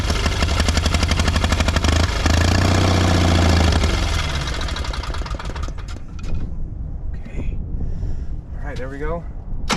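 An old Onan engine on a Miller welder, revived after ten years idle, runs loud and rough for about four seconds, then sputters and fades to uneven lower chugging, with voices talking over it.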